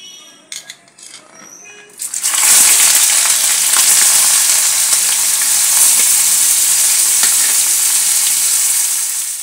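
Cauliflower and potato pieces drop into hot oil in a pan after a few light clinks, setting off a loud, dense frying hiss that stays steady to the end.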